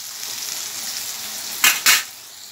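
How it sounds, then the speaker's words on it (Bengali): Potato pieces frying in a pan with a little turmeric give a steady, soft close-up sizzle, broken by two quick louder scraping stirs near the end, with no talking. "এটাকে ভাজা ভাজা করছে হালকা হলুদ দিয়ে"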